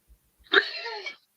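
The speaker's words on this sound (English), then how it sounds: "I'm about to cough" A single sharp, explosive cough-like burst, close and fairly loud, about half a second long, with silence before and after.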